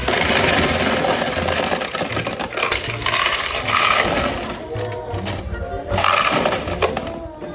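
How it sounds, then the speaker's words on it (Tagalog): Coins clattering and jingling steadily as they are emptied from the hopper of a pisonet coin changer, a loud continuous metallic rattle with a brief lull near the end. "At dito, tatanggalin ko po pala muna yung mga barya bago natin kalasin."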